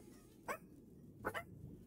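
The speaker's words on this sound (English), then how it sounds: "Stop, dogs." Pet dogs bark twice indoors, two short sharp barks about a second apart, fairly faint against a quiet room.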